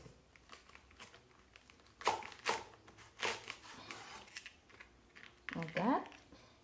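A knife slices through a banana blossom, cutting it in half, giving a few sharp crunchy cuts near the middle and a rustling crunch toward the end, with faint background noise between.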